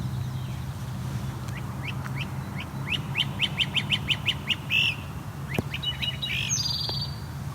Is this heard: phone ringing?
no